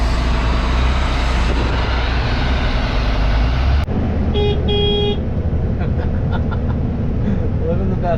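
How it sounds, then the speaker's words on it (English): A vehicle horn honks twice in short bursts on a farm during the last day of harvest, right after a loud, rumbling machine drone cuts off, with faint background noise continuing. "Even the Amish know to have them honk the horn."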